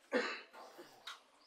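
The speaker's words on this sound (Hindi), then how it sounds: "खांसी है ना" A single harsh cough, close and fairly quiet, followed by a couple of smaller throaty coughs.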